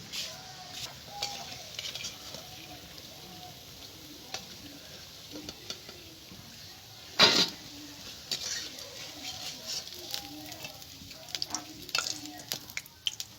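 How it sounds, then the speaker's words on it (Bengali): Bread pakoras deep frying in hot oil, a continuous soft bubbling sizzle with scattered pops and one sharp loud clatter partway through, heard close with no talk. "আমি প্রত্যেকটা পকোড়া এভাবে ভেজে নেবো লাল লাল করে"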